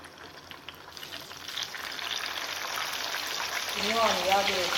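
Battered melon deep-frying in hot oil, a soft steady crackle that builds louder, with a voice speaking briefly over it near the end.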